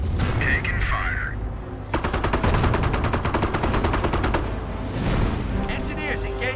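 Machine gun fire rattles in rapid bursts during a Company of Heroes: Tales of Valor battle, mixed with explosions and gunfire, with soldiers' voices calling out over the combat.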